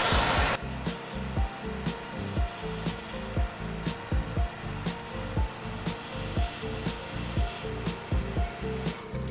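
Torch heating the metal passenger-side cab panel of a 1949 Jeep Willys pickup: a steady roaring hiss of the flame runs throughout, with a rhythmic pulsing underneath and occasional sharp clicks.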